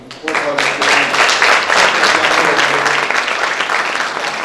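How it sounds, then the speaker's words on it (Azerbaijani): Loud, dense audience applause at a 90th-anniversary jubilee concert for a composer, a full crowd clapping steadily and close for several seconds without pause. "möhtərəm müəlliməni alqışlamaq istəyirəm."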